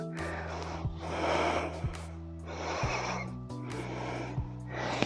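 Heavy, audible breaths during an arm-focused fitness routine: slow noisy inhales and exhales through the nose and mouth come in regular cycles, close and fairly loud, with faint background music.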